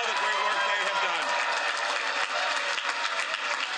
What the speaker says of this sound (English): give them a great round of applause for all the great work they have done